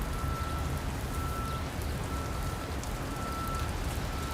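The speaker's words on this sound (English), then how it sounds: "I probably won't do much walking around unless the rain stops" Steady rain falls under the Blue Water Bridge in Michigan, a dense, even hiss of drops with no pauses, close and moderately loud, with a faint high tone running through it.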